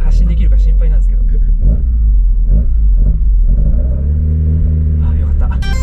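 A carbureted Mazda Roadster pulls away from a stop, its engine rumbling loud and close with a rising rev, while people talk over it.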